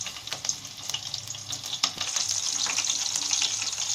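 Cinnamon sticks, cloves and green chillies frying in hot oil for a spicy chicken gravy, with a crackling sizzle that grows steadier and louder, punctuated by sharp pops and spatters.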